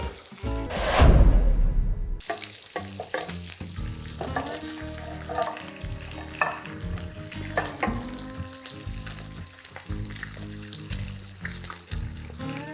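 Banana pancake batter cooks in a hot pan, opening with a loud whooshing burst, then a soft sizzle broken by frequent light clicks and taps of utensils, close and unhurried.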